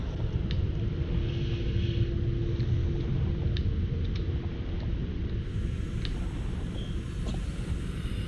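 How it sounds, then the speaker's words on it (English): A creature's growl sounds far off in the underwater game Subnautica, a faint moaning tone rising over a constant low underwater rumble with occasional soft clicks. "you might have heard a little growl in the distance."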